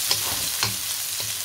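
Onion added to frying masala for aloo pulao, a continuous dense sizzle with a few soft stirring knocks, close and steady.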